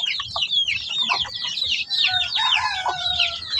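Native chicks just over a month old cheep and cluck loudly and continuously, many overlapping high chirps close by with low scratching and shuffling underneath.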